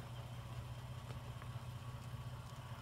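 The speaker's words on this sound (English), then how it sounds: "The engine just idles wherever you point the truck." A 2016 Toyota Tacoma pickup with a Marlin Crawler triple transfer case idles at about 800 RPM, a faint, steady low engine hum pulsing evenly under background noise.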